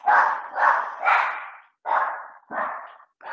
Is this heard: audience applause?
no